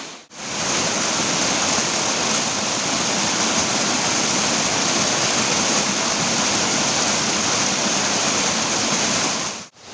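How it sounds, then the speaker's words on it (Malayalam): A forest stream running strongly after rain near a waterfall at Kallampara Chola, a loud, dense, steady rush of water that fills the clip from start to finish. "മഴ ഉള്ളത് കൊണ്ട് തന്നെ നല്ല ശക്തിയിൽ ഒഴുക്കുണ്ട്."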